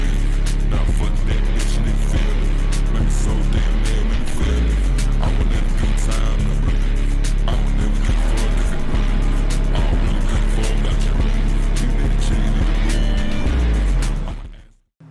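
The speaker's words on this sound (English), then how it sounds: "And as I'm driving away from Kakeru, I'm drifting through the hairpin again, as you can see" A car in the racing game Assetto Corsa drifting through a hairpin on the Odawara Pikes Peak course, a loud continuous engine roar with revving and tyre noise throughout, cutting out abruptly at the end.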